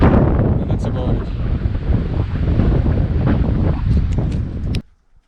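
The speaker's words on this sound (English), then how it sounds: "It's quite windy" Strong wind buffets a campsite in Greece, loud rushing gusts roaring continuously against the microphone before cutting off abruptly near the end.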